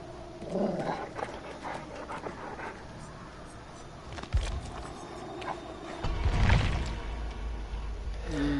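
A dog in the Dead by Daylight video game pants and whimpers in short bursts over a busy game background, with some louder thumps and rumbling midway and toward the end.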